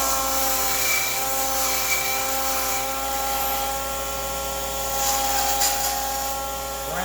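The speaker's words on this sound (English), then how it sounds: "Belt sander." A belt sander runs steadily while rounding off the edges of a metal bracket, a loud continuous mechanical whine with a sustained hum that rises slightly in rough patches as the work presses in.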